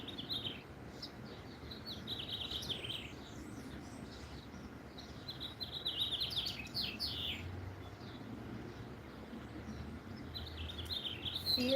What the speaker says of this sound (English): We have a lovely bird in the tree making a beautiful song.